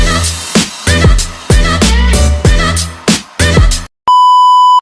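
An intro jingle for a Geometry Dash video: loud punchy musical hits in a choppy rhythm, cut off by a brief silence and then a sustained electronic beep tone.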